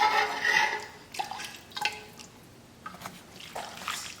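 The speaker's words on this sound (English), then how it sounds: "And pour yourself a heaping ladle." Chicken broth ladled into a bowl in a home kitchen, a short splashy pour followed by several soft drips and clinks, fairly close and quiet.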